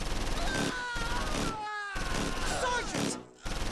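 Gunfire from the World War II tactics game Close Combat IV, bursts of shots mixed with sharp in-game effects while someone talks over them.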